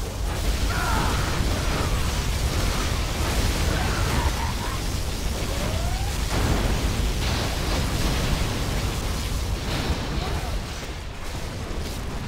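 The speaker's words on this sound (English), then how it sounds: "Particle cannon activated." A particle cannon blast roars in the C&C Generals Zero Hour video game, a loud, sustained wall of broadband noise lasting over ten seconds with faint tonal whines and crackles within, easing slightly at the end.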